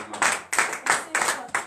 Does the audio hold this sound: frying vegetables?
no